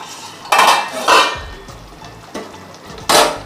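A metal lid clatters off a pot of boal fish curry simmering with gondhoraj lemon leaves, with a few loud clanks of metal on metal close by and no talk.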